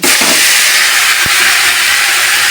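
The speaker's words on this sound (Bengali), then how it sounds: "তেলটা তো গরম হয়ে গেছে, এবার আমি এর মধ্যে এটাকে ঢেলে দিচ্ছি।" A mixture poured into hot oil in a kadai bursts into a loud, continuous sizzling hiss that fills the whole stretch, close and steady with a brief thump partway through.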